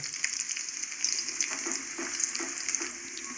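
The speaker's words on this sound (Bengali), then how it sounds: "রসুন কোচানো রসুনটাকে একটু লাল করে ভেজে নেব" Chopped garlic fries in oil for a spinach and masoor lentil dal, a steady bright sizzle with soft bubbling pops, close and moderately loud, with no one speaking.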